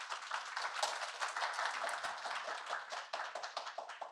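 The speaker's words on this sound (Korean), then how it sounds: "박수로서 환영해 주십시오." An audience claps to welcome a speaker at a talk on data-driven exercise management, a steady patter of many hands clapping at moderate distance, filling the whole stretch without talk.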